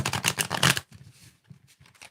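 A brisk burst of card riffling up close for under a second, followed by softer, scattered flicks and taps as the cards settle.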